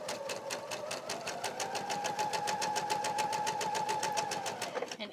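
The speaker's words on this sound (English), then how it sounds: "now I am putting in a hem. I'm using my narrow hemming foot." A sewing machine fitted with a narrow hemming foot runs a hem in fabric for a parasol cover panel. It clatters in a steady, rapid rhythm for about five seconds, close and continuous, then stops.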